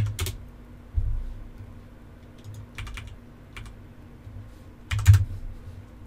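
Bursts of typing on a computer keyboard, close and clear, with short clusters of key clicks separated by pauses and a couple of louder strikes, no talking.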